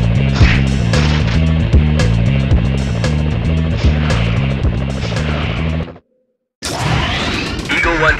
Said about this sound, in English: Police choppers!